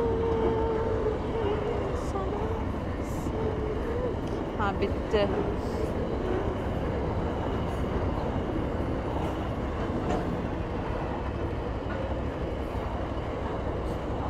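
A long train rolls past in Coober Pedy, Australia, a steady rumbling rush of wagons that holds level for the whole stretch, while a person speaks briefly over it.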